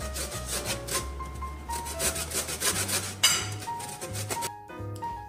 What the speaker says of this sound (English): so now I am just zesting the lemons